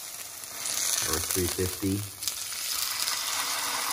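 Beef patty frying in a hot pan, a steady broadband sizzle running throughout, close and fairly loud, with someone briefly speaking over it.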